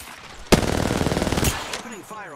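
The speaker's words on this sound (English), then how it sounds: "Opening fire on the enemy." Rapid automatic gunfire in a shooter video game, a loud close burst of about a second of fast repeated shots, followed by a fainter shot and in-game sounds with brief voice.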